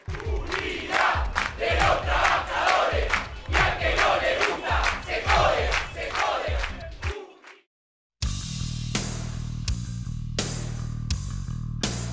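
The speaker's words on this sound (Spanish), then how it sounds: "El aplauso para ellos, chicos" At a workers' protest outside Télam on Avenida Belgrano, a large crowd loudly cheers and chants in rhythmic bursts for about seven seconds, falls silent, then gives way to a steadier, denser wash of sound.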